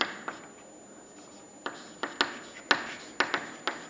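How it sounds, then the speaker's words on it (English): Short tapping and scratching strokes of marker or chalk writing on a board during a civil engineering lecture, a quiet stretch followed by a cluster of sharp irregular taps, close with no talking. "for this I am going to write as it is"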